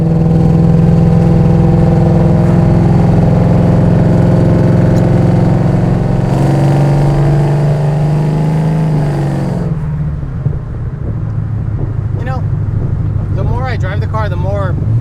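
A 2014 Ford GT500 with a supercharged engine drones loudly while driving, its tone climbing and shifting through revs, and someone talks over the steady engine noise in the later part.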